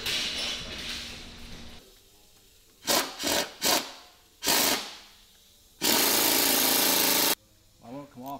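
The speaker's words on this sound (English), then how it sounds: "So we're just threading one in, and then they'll be welded to the tank." Spacer bushing mounts for a fuel tank are threaded in a workshop, heard as several short loud scraping bursts and one longer grinding stretch after a quieter opening of mechanical noise.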